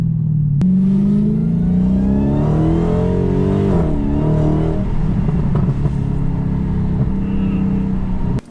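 Turbocharged LS-swapped Mustang engine heard from inside the cab, revving up through a rising pitch, dipping and climbing again under steady loud cabin drone, then stopping abruptly.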